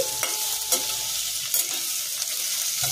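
Potatoes added to sponge gourd frying in a pan, a bright, steady sizzle with a few sharp spatula scrapes, close and fairly loud and with no speech.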